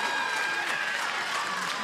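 A women's Australian football crowd applauds and cheers a spectacular high mark in a continuous, fairly loud roar, with faint commentary underneath.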